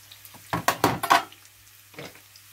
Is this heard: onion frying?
yes